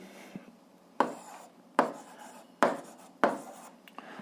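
Pen strokes writing out an algebra solution on paper, four or five short scratchy bursts in a steady rhythm, close and fairly quiet, with no voices.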